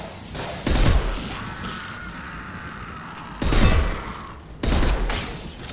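Sniper rifle shots from the video game Mass Effect Legendary Edition: three loud, heavy blasts spaced over a few seconds, each with a booming low-end crack and a short ringing tail, over a quieter game background.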